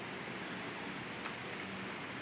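Rain falls in an even, soft hiss, faint and continuous with no distinct drops or voices.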